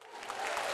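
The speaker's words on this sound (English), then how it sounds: "Clap it up for her." Applause from a small group, a steady wash of clapping that stays even and moderately faint through the short moment.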